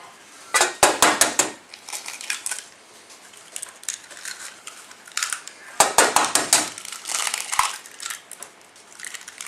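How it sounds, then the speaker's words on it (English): Two eggs cracked into a bowl for a chicken goujon batter, with sharp crunchy shell cracks and clinking against the bowl in two close bursts, each followed by softer handling noises. "Then in the next bowl we're going to crack 2 eggs."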